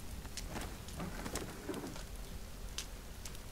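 Rain falling in the survival video game The Forest, a steady soft patter on surfaces with a dove-like cooing bird call layered over it, continuous and even with no speech.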